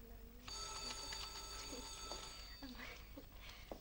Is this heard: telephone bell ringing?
yes